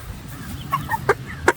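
Chickens cluck in short, separate calls inside a temporary coop, several clear clucks close by over a low background rumble.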